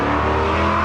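A car engine at Infinite Customs shop revs hard as the car pulls away, a loud, close, steady roar that lasts under a second with no talk.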